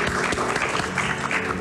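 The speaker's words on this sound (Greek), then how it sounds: "Και θέλω να την χειροκροτήσουμε όλοι." An audience at a live stage show breaks into applause, dense sustained clapping from a full crowd, loud and steady throughout with no voices over it.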